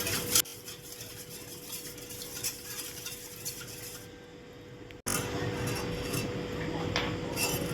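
A spoon stirring two spoons of oil into milk curdled with lemon juice in a bowl for homemade cupcake batter, heard as quiet, continuous scraping and swishing that grows louder after a short break partway through.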